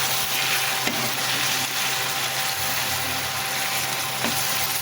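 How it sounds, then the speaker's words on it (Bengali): Two taki fish heads sizzle in hot oil, a steady dense crackling hiss at close range with a couple of sharper pops and no talking. "এখানে মাছের মাথা দুটো ভাজতে দিয়েছে। মাছের মাথাটা সুন্দর করে ভেজে নেব।"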